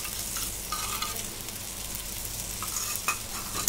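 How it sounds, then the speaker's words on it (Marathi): Onion with ginger-garlic paste fries in a pan, giving a dense, close sizzle with light scraping as it is stirred. "आता मी भाजून घेते."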